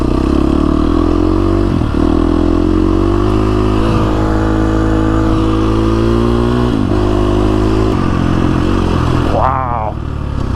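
A KTM 350 SX-F dirt bike ridden through desert terrain, its engine droning loud and steady throughout, with small shifts in pitch and a rising rev near the end.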